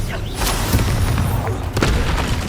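Bombarda explosion spell from Hogwarts Legacy on PS5: booming magical blasts with heavy low thuds, several impacts in quick succession over continuous loud combat noise.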